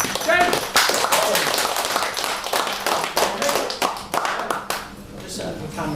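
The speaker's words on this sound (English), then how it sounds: "let's give him a massive round of applause" A live audience gives presenter James a round of applause at a Leamington Hour business networking event, energetic clapping with loud sharp individual claps close by, thinning out toward the end.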